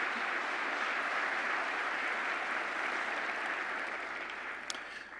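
Delegates at the 186th Diocesan Convention plenary applaud to approve a resolution, sustained hall-wide clapping at moderate distance that stays steady and then tapers slightly near the end.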